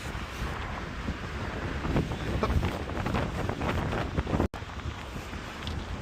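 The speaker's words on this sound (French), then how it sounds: "Il y a un peu trop de vent." Strong wind buffets the microphone in steady, loud gusts on an outdoor stop during a road trip in a Honda S2000 convertible, with broadband roaring throughout and a brief cutout near the end.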